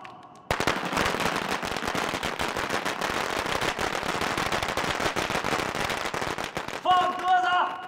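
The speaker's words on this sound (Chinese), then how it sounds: "鸣放鞭炮。" A long string of firecrackers bursts at a village ceremony in a dense, crackling barrage of rapid pops lasting several seconds, loud and close, with voices calling out as it ends.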